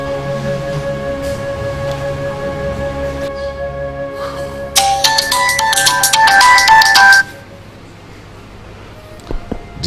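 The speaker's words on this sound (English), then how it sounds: "you left your phone in the other room, and it rang." A mobile phone ringtone plays loudly nearby as a bright repeating electronic melody that rises in intensity midway and then stops, leaving a quieter background with faint clatter.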